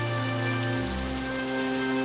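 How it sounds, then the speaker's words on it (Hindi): Heavy storm rain pours steadily and fairly close, a dense continuous wash with a low rumbling undertone and no voices. "जितना मैंने सोचा था ये तो उससे कहीं ज्यादा बारिश है।"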